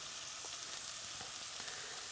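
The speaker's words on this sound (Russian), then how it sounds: "Капусту обжариваем 2 минуты." Steady, soft sizzling of shredded cabbage frying in a pan, with small crackles popping through the constant hiss.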